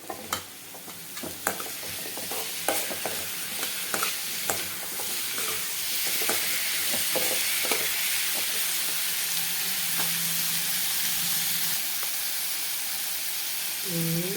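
A spoon scrapes and stirs prawns and vegetables such as chayote in a curry pan, giving repeated sharp scrapes over steady frying sizzle and hiss that builds louder and denser through the second half.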